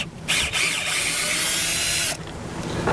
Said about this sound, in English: we're just going to use a little basic hand drill here